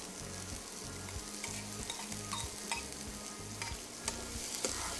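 Chopped onion tipped into hot oil with toasted cumin seeds, for a brinjal bharta, sizzles steadily while a spoon scrapes and stirs the pan in close, regular strokes, with no talking.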